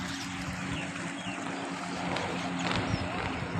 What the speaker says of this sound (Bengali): স্পিড বোট কীভাবে যাইতেছে দেখেন।